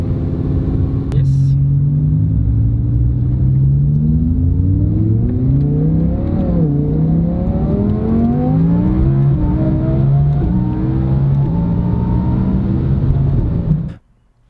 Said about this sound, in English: Going for a ride here in the R8 with Alex here.